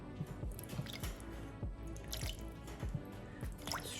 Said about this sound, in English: And then I add some water,